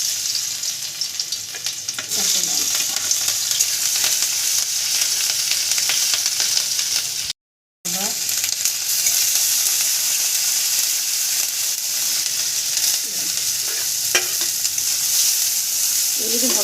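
Spices frying in oil in a kadai for a soybean paratha filling, a continuous close sizzle with light stirring scrapes, broken by a brief silent gap partway through.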